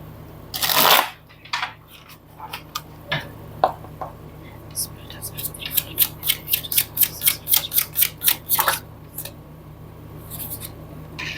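Tarot cards being shuffled by hand, a run of crisp riffling flicks that speeds into a dense rhythmic burst near the middle, close up with faint soft speech at times.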